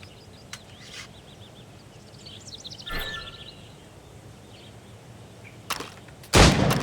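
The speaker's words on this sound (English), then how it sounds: "Shoot these targets." Shots at training targets in the video game Assassin's Creed Rogue come as a few sharp, isolated cracks spaced several seconds apart over faint ambient noise. A louder, longer burst of sound closes the sequence.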